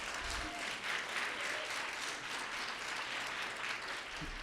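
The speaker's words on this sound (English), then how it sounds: "Let's give her a round of applause." An audience claps for a writer at a literary prize ceremony, the applause dense and continuous at moderate volume throughout.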